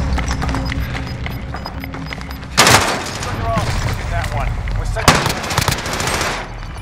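Rapid automatic gunfire bursts in Call of Duty: Warzone, loud and close over a constant game soundscape, with two sharp volleys cutting in partway through.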